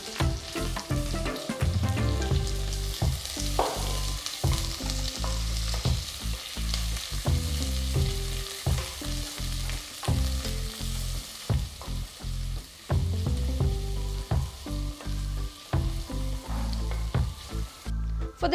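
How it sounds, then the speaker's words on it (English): Thinly sliced onions frying in oil with whole cinnamon, cloves, cardamom, star anise and bay leaf, a steady loud sizzle broken by repeated clinks and scrapes of stirring throughout, with no talking. "To this, I'm adding 2 medium-sized onions thinly sliced."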